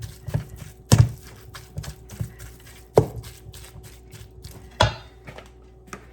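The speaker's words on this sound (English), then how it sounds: "I'm gonna break up this. Egg broken up." A spoon or utensil strikes a pan while a cooked egg is broken up, giving a handful of irregular sharp taps and clacks separated by quieter scraping.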